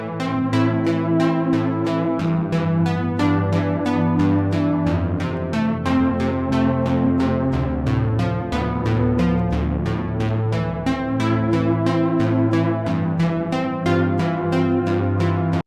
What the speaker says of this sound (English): I've got my own synth loop in already to get us started.